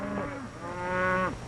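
Cattle bawl near a branding fire as a hot iron is put to them, with two or three drawn-out, tonal moos rising and falling close by and loud, the last one long and sustained; no talk.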